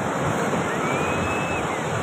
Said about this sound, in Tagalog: Taas po ng alon.